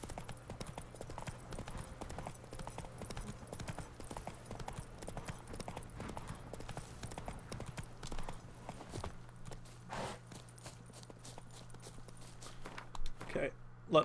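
Horse hooves clip-clop steadily in The Witcher 3: Wild Hunt, Blood and Wine, a continuous walking rhythm over a low steady game hum, with someone talking over it.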